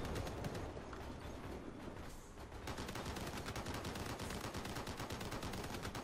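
Rapid bursts of vehicle-mounted weapon fire in the combat game Crossout, dense and loud, continuing almost without pause across the whole stretch, with a short lull midway.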